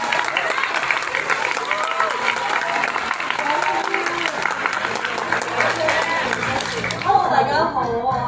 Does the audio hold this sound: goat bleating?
no